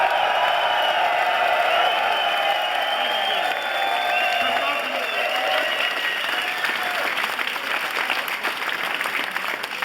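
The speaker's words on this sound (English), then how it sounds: "Round of applause for the teams in Austin and LA would be much appreciated." An audience at the Star Citizen hangar module release event in Köln applauds the game development teams in Austin and LA with dense, continuous clapping and scattered cheers for about ten seconds.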